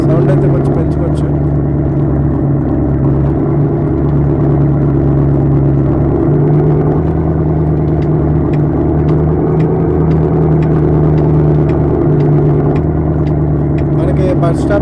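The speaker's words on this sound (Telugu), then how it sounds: "సో ఇంజన్ సౌండ్ అయితే ఇలా ఉన్నది" Bus engine idling in the mobile driving game Bus Simulator: Extreme Roads, a steady low droning hum that runs loud and unbroken throughout while someone talks over it.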